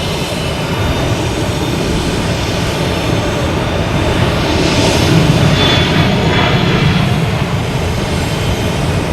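Delta Embraer E175 regional jet at Boston Logan departing for Charlotte, a steady loud broadband engine roar that swells slightly mid-clip, heard from a distance with no talk over it.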